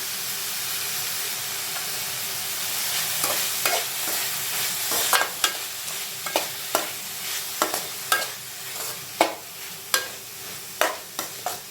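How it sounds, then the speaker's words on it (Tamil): Onion and tomato are sautéed in a pan with salt for a drumstick fry. A steady hissing sizzle comes first, then regular scraping stir strokes repeat about twice a second over the frying, with no talking. "நல்லா தக்காளி வெந்து சாஃப்டாகிற வரைக்கும் வதக்கிக்கோங்க."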